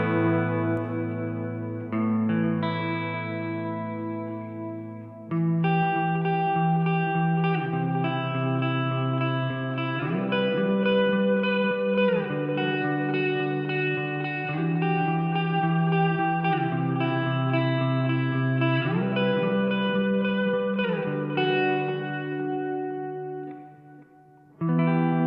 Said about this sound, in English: let's quickly hear what the delay and reverb sound like together now that I've dialed them both in